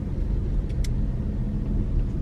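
Steady low rumble of a car cabin while driving, road and engine noise filling the space evenly with a couple of faint brief clicks and no talk.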